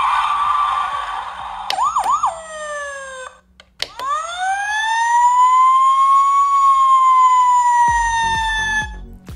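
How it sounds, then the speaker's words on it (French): A Paw Patrol toy fire truck sounds its electronic siren loudly and close up: quick wavering wails, then a long rising and falling tone, with clicks from button presses in between. "Nous avons la sirène qui est là,"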